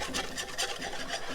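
A whisk scrapes and rubs in a pan as flour is worked into melted butter for a roux, a short burst of rhythmic scratching strokes, close and alone.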